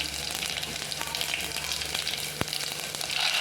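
Dried red chilies and mustard seeds fry in hot oil for masala dal, giving a steady, close sizzle with faint crackles and one sharp pop near the end; no voices.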